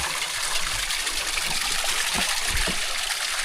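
Water runs steadily through a hose feeding an automatic garden sprinkler, a continuous broadband hiss and trickle with a few soft low thumps, steady and fairly close, no voices.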